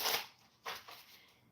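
A deck of cards being shuffled, two quick riffling bursts of papery flutter, close and fairly faint, with no talking.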